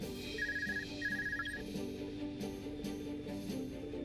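A phone rings in Trails of Cold Steel 2, two short electronic trill bursts rising over a quiet, steady game music background.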